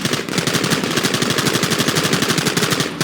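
Rapid automatic gunfire from a Red Dead Redemption shootout, a loud continuous burst of evenly spaced shots lasting about three seconds with no speech.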